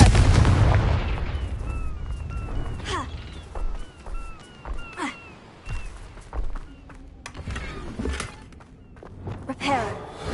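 Fire-blast spells in the Hogwarts Legacy video game go off as a series of booming, crackling bursts, some close and heavy, others sharper, mixed with bright magical chimes and footsteps, with a voice speaking at times.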